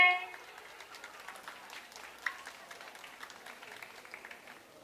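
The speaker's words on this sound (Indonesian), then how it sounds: "Beri tepuk tangan untuk kelas 9E." Light applause from a school audience for a class's dance and gamelan performance, a thin scatter of claps, fairly faint and distant, tapering after a louder start.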